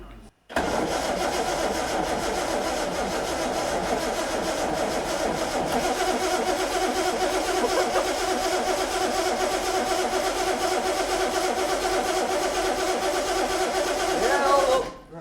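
An old vehicle engine with dry fuel pump diaphragms cranks and catches, then runs loudly and steadily up close for several seconds before it is shut off.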